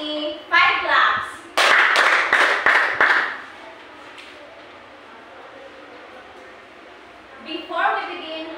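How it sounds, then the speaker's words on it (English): Schoolchildren in a classroom clap together in a short burst of five sharp, evenly spaced claps, with a young voice talking before and after and a quiet room in between. "give yourself a 5 claps"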